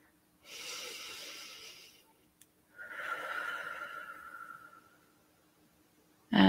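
A deep breath in EFT tapping: a long, soft inhale followed by a slower, airy exhale, close and quiet with no talk, ending in a sudden louder noise.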